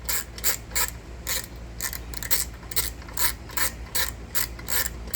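A ratchet loosens bolts on the exhaust of a 2021 Harley-Davidson Nightster motorcycle, giving repeated crisp clicking bursts in an uneven rhythm, close and clear with no talking.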